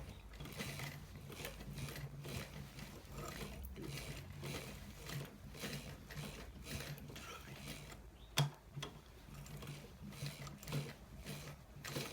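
A sewing machine stitches a designer collar shirt, its rapid mechanical whir running steadily in short bursts close by, with a sharp click near the end and no talk.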